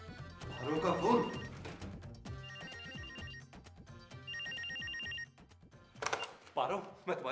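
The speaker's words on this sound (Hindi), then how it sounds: "पारो का फोन।" A telephone rings in repeated electronic bursts with music and some talking around it, the ringing clear and fairly loud.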